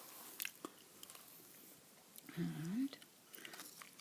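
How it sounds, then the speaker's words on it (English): Super Bubble Gum is chewed close to the microphone in soft, quiet, irregular wet chomps and squishes, with one brief murmured word. "bubble gum I'm chewing tonight, by the way. Super bubble gum."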